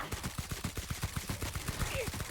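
Rapid automatic gunfire in a video game, a fast regular burst of sharp shots at roughly ten per second, loud and close, continuing for the whole two seconds.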